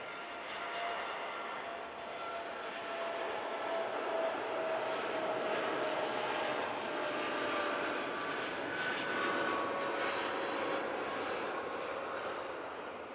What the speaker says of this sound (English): 2E787 Dreamliner rolling now